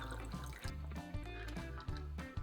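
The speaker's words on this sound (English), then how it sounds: "Let's pour that over ice." Nuka Victory, a non-alcoholic drink made with club soda, is poured over ice in a faint, trickling splash that sits quietly beneath steady background music.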